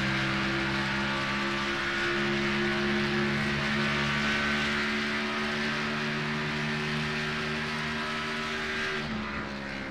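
Stock-car Cup engines roar around Indianapolis in a racing video game, a loud, steady multi-car drone with layered harmonic whine holding constant for the whole stretch, slightly easing at the very end.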